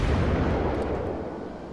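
Destroyers open fire with their guns in a World of Warships naval battle, a dense rumbling barrage of heavy booms rolling continuously and fading slightly toward the end.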